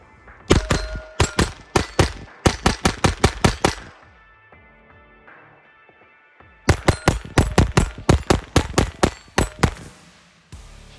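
A Taurus TX22 Compact .22 pistol firing Aguila 40 grain round nose rounds at an outdoor range: two strings of sharp, loud cracks in quick succession, separated by a quiet pause.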